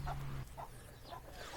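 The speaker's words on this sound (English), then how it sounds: "I have no idea how many roosters there are here, but it's a lot." Roosters in Thailand, more than 20 of them, cluck in short, repeated bursts a little way off, several birds calling one after another over a low background hum.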